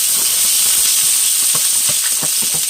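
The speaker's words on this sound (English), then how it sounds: "We're going to saute our onions." Onions sauté in a blend of avocado and coconut oil, giving a loud, steady close-up sizzle and hiss with small crackles and pops toward the end, with no voices.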